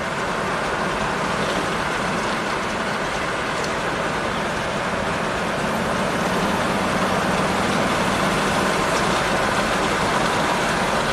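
A Cadillac Allante with a Northstar V8 cruises along, giving a steady, loud, unbroken drone of engine and road noise inside the cabin, with no voices.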